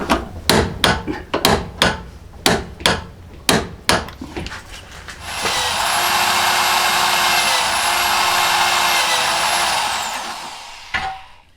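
A run of sharp, evenly spaced knocks gives way to a loud, steady power drill boring drain holes through the rebuilt rear steel frame of a Jeep YJ, whining for about five seconds before stopping.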